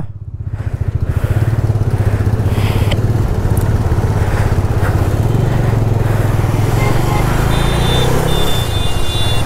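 Touring motorcycle cruising a dry highway near Kolaghat on a long Kolkata-to-Bangalore ride, its engine a steady, loud, close drone mixed with rushing wind noise throughout.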